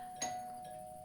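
A front doorbell gives one short chime, quiet and slightly distant over a faint steady tone.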